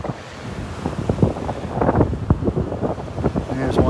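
Surf washes onto the beach at Delnor-Wiggins, a rushing, uneven roar of breaking water mixed with gusty wind buffeting, and a few faint voices in the background.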